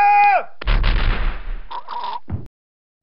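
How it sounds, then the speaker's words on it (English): Firing squad volley in a dramatized pirate-era execution: after a shouted command, one loud crashing burst of massed gunfire fades out, followed by a couple of shorter echoing reports. "Harriet was killed by gunfire, and Bonnet was recaptured."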